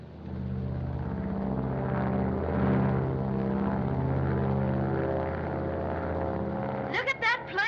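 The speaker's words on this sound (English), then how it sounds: "Look at that plane climb" A single-engine propeller plane climbing steadily under radio control, with a loud, sustained droning engine hum that holds throughout, then a voice cutting in briefly at the end.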